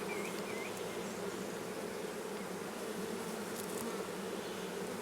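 Honey bees drone steadily around an open cedar National hive on a farm, a dense continuous buzz that holds at an even level throughout with no voices.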